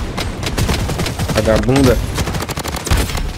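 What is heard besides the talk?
gunfire in a video game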